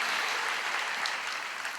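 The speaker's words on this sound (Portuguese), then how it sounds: "aplauda o Senhor" A church congregation applauds during worship, a soft, even wash of many hands clapping at a distance, brief and steady.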